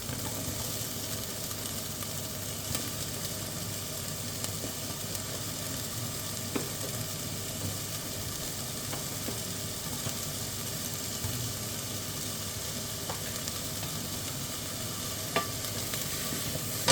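Celery and onions frying gently in a pan for carrot and sweet potato soup, a steady, even sizzle running unbroken for a long stretch with a few faint clicks of stirring, nearby and with no talk.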